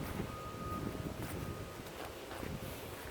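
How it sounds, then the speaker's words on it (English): Wind blows outdoors and buffets the microphone, giving a quiet, low, uneven rumble with faint rustling and no speech. "The wind isn't messing it up too much."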